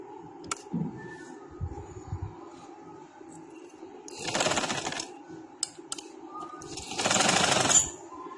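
A sewing machine stitches elastic onto cotton pajamas in two short loud bursts, each roughly a second long, separated by quiet pauses with small handling clicks and rustles.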